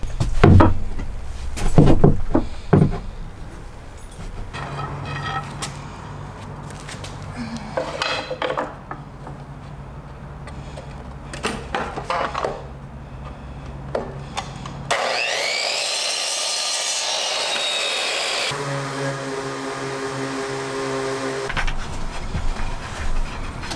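Wood pieces are cut to size with a saw in a short bus conversion closet build, producing scraping cutting strokes mixed with clattering knocks and a brief burst of power tool whine near the end.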